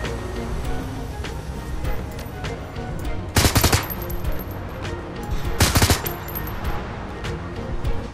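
Two short bursts of gunfire, likely pistol shots, in the Shadowrun: Hong Kong video game, sharp and fairly loud above a steady ambient game background, spaced a couple of seconds apart.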